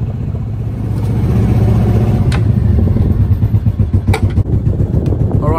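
A single-cylinder 10 hp Yamaha engine on a 70-year-old 28 ft timber yacht chugs loud and close, a steady rapid thumping beat that rises slightly in intensity, with no voices over it.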